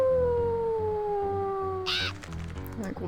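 Player's wolf in the video game WolfQuest giving a long, slowly falling howl, clear and close, which ends abruptly and gives way to scattered game noises and a brief muffled bird-like call.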